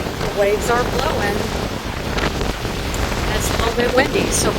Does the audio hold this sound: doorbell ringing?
no